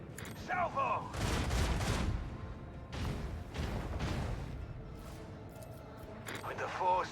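Heavy booming macro cannon salvo fire in a video game, in bursts, a volley around the first two seconds and another near three, with synthetic game-like tones between blasts.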